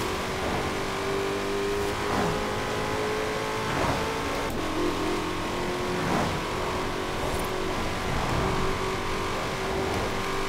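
Modified 2020 Shelby GT500 in a racing game, its engine droning steadily loud with repeated rev swells and throttle lifts, no talk over it.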